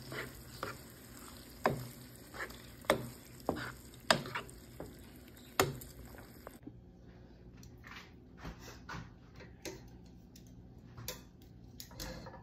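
Tomato sauce for spaghetti bubbling and sizzling in a pan, a soft steady simmer broken by sharp clicks and taps of a utensil at irregular intervals, close and quiet.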